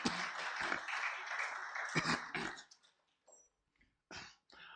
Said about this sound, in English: let's give Uganda Revenue Authority a big clap for the awareness drives